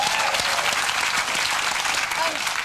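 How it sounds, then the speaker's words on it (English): Dense studio audience applause on a late-night comedy show, loud and continuous from start to finish with no speech over it. "Round of applause for that, I think."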